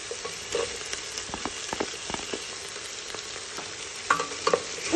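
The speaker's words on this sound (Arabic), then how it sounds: "غادي نخلي الكل يتشحر مزيان" Vegetables, potato and pumpkin among them, sauté in a pot for a Moroccan seafood soup, with a soft continuous sizzle and a spoon clinking and scraping repeatedly as it is stirred.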